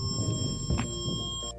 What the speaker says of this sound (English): When a metallic object is detected, the receiver display screen will show an increased numerical intensity and emit a strong beep